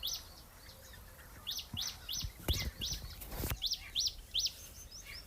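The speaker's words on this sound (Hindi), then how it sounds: "छोटी सी चिड़िया एक वो बोल रही" A small bird by a farm field gives a series of sharp, high chirps in an even rhythm, moderately close, briefly interrupted by a burst of low thumping and rustling before the calls resume.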